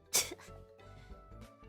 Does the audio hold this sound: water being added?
no